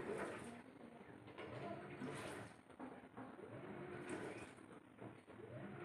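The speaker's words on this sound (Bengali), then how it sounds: "এবার আমি জল দিয়ে দিলাম।" Hot water pours into a pan of potato curry, a faint, steady rushing splash that continues for several seconds in a quiet kitchen.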